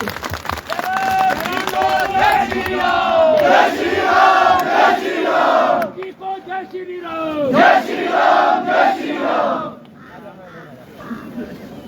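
Crowd at a BJP protest rally in Shimla roars with cheers and shouts in two loud surges, briefly dipping near the middle and fading toward the end, with voices rising over the din.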